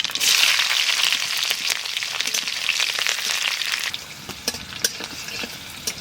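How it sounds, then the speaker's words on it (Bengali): Black cumin seeds and slit green chillies sizzling in hot oil, giving a loud, dense spitting crackle that eases slightly toward the end with scattered sharp pops. "তেলের উপর দিয়ে দেবো কটা কালো জিরে আর কটা চেরা কাঁচা লঙ্কা"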